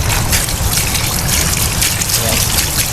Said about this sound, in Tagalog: Tuloy-tuloy lang po ang tubig dito mga kabayan.